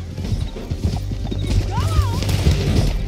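Steady hoofbeats clip-clop along under a busy Red Dead Redemption 2 game soundscape, with a brief horse whinny partway through and some speech in the background.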